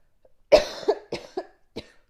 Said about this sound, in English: So sorry about this cough.